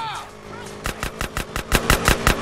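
A rapid run of about a dozen gunshots from GTA San Andreas, evenly spaced and close, with each sharp crack following quickly on the last. Faint engine-like background noise and a brief voice come just before the firing starts.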